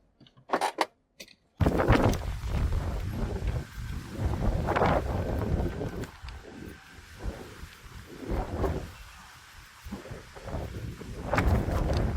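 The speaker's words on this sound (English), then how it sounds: "Okay, the wind can calm down now. It's a little too much for me." Strong gusty wind buffets the microphone outdoors in a restaurant parking lot, a loud roaring rumble that surges and dips after a brief quiet start, with faint clinks in between.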